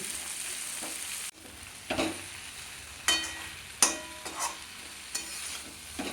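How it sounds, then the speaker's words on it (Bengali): Soft, fairly quiet frying sizzle of ash gourd leaves in a pan, with occasional scraping stirs and clinks of a utensil. "আবারও কিন্তু নেড়ে চেড়ে একটু ভাজা ভাজা করে নেব"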